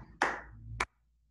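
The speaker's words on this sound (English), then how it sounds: "So we have our clap." Two sharp hand claps about half a second apart, the first fuller and ringing slightly longer, heard close and alone during a children's music-and-movement dance session.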